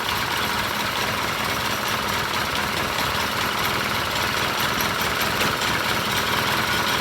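A 1978 Blue Tri car engine with a newly installed clutch runs steadily on a lift during a shift test, a constant close mechanical drone with no talk.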